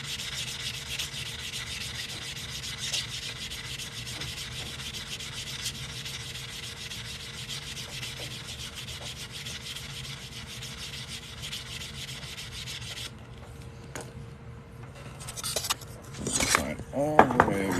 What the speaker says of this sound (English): Now I'm just going to sand this cut edge here and kind of smooth that out.